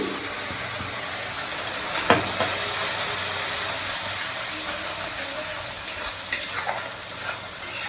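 Steady hissing sizzle of something frying in hot oil, with occasional stirring clinks and scrapes close by.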